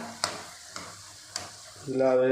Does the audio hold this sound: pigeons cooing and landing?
no